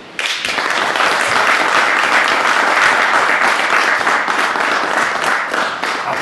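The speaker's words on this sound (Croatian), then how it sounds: "jedan veliki aplauz" An audience at a New Year's stage performance breaks into sustained applause, a dense, loud wash of many hands clapping that starts abruptly and carries on evenly before easing slightly at the end.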